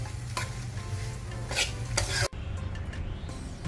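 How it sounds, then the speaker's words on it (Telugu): Vegetables and spices, including garam masala, stirred in a hot pan for ragi vegetable paratha and cutlets, with a steady sizzle and the scrape of a utensil against the metal pan, with no talking. "ఇవన్నీ వేసిన తర్వాత బాగా కలుపుకోవాలి."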